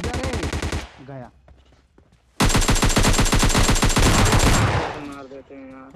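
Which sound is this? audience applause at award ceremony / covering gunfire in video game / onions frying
covering gunfire in video game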